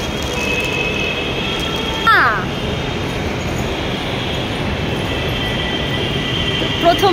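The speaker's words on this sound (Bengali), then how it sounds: "আর এইটা হচ্ছে মেট্রো স্টেশন।" A Kolkata metro station is filled with steady train rumble and rail noise, with a brief metallic squeal partway through, while a person talks over the continuous hum.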